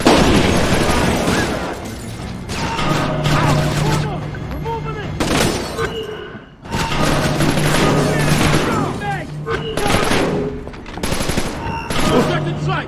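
Frag grenade blast and heavy rapid gunfire in the video game Splinter Cell Conviction, loud and dense with sustained bursts, brief lulls, and combat voices calling out over the shooting.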